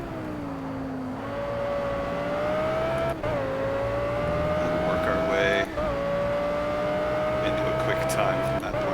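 Race cars in a multi-class Project Cars qualifying session: engine tones rise and fall in steady drones, with gear-shift dips around three and six seconds. A voice talks over them throughout.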